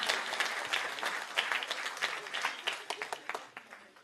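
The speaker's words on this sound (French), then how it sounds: "on peut vraiment applaudir tous les parents qui sont là dans cette salle" An audience in a hall applauds for parents, a steady burst of many hands clapping that thins out toward the end, with faint voices underneath.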